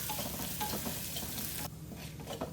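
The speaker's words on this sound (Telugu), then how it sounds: "ఇందులో ఫ్లేవర్ కోసం కొద్దిగా ఇంగువ, అలాగే మనం దంచి పెట్టుకున్న ఈ పౌడర్ని వేసేసి 1 నిమిషం ఫ్రై చేయండి." Asafoetida and freshly pounded spice powder fry in a pan for a rasam, giving a steady, close sizzle with light stirring scrapes and no talking.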